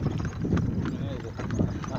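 Horse hooves clip-clop steadily during a ride through the rural Raebareli area, close and continuous beneath a dense wash of outdoor noise and indistinct voices.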